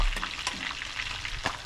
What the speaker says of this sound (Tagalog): Ayaw ko talaga nagpiprito kasi galit na galit sa akin ang mantika.